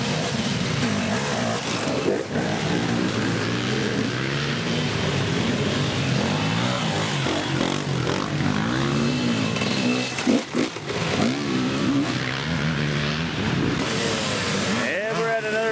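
Off-road racing vehicles on a wooded track rev and buzz continuously, their engine noise rising and falling through the whole stretch while a commentator talks over it.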